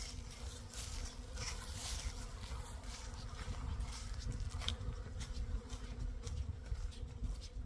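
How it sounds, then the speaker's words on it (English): Bees buzz steadily and densely in the Great Smokies, a close, continuous drone that holds without a break and with no talk over it. "Come save these bees."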